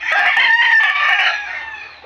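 A yellow-legged backyard rooster crows loudly and close by, one long drawn-out call lasting about two seconds and fading slightly at the end.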